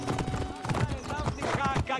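Horse hooves clopping at a walking pace in Assassin's Creed Origins, a steady rhythmic clatter that stays near, mixed with game ambience and someone talking throughout.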